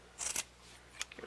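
Scissors cutting through file folder paper ribbon, two quick close snips with a short crisp rustle between, quiet and alone.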